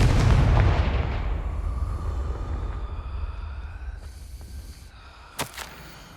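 A Confringo fire spell explodes in Hogwarts Legacy with a loud boom that decays into a long rumbling tail, followed by a brief sharp burst near the end.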